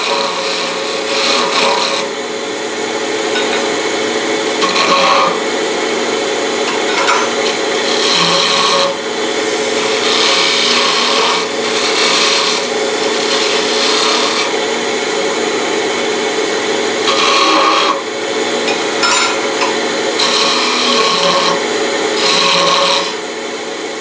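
Steady rasping chatter of a cutting tool against wood spinning on a slightly wobbly lathe, with recurring bursts of louder scraping throughout, no voices.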